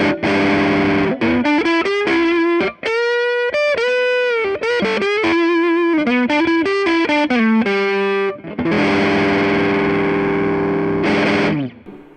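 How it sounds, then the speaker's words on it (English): A Gibson Les Paul Studio, coil-tapped on the neck pickup and lightly overdriven, plays a melodic single-note run with bends, then sustained ringing chords, loud and close with short pauses between phrases. "let's see what these pickups sound like with the coils tapped and with a little bit of dirt."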